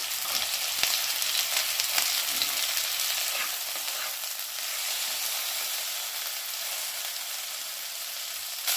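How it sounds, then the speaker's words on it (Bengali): Eggplant frying alongside potatoes, cumin, garlic and green chili in an oiled pan for a spring onion curry, an unbroken close sizzle with faint crackles and no speech. "পরে পরেই বেগুনটাও দিয়ে দেব, একটু ভাজা করবো এদিকে।"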